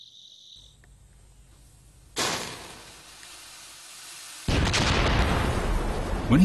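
An immense explosion in a China documentary: after a quiet hum and a sharp burst, a second massive blast erupts into a sustained, roaring rumble that grows louder to the end.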